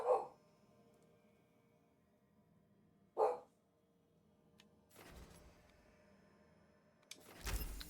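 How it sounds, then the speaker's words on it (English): A roommate's dog barks indoors in a few separated bursts, moderately close, with quiet room tone and some rustling and clatter between the barks. "one of my roommate's dogs right now"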